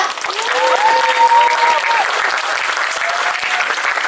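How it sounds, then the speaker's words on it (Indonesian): Audience at a school theater performance breaks into applause, a dense, steady clapping that fills the room for several seconds, with faint voices and a brief tonal sound mixed in. "Boleh kasih tepuk tangannya?"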